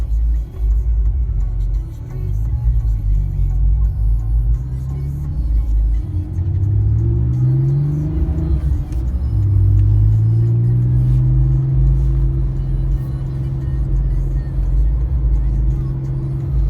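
Engine of a Porsche 911 Type 996 Carrera 4S, 320 horsepower, heard from inside while driving on the road: a loud, steady low rumble with rising and falling revs through gear changes over the full length.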